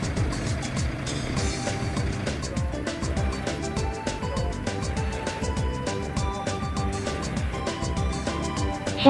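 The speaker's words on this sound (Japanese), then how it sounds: "ここでレッカー車ごとウィンチで引っ張ります。" A tow truck's winch hauls a broken-down, low-riding used Mercedes-Benz sedan onto the truck bed, a steady mechanical grinding and engine rumble with irregular clanks, close and fairly loud throughout.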